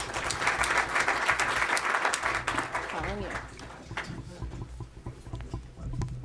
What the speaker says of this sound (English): Please give Sean a round of applause.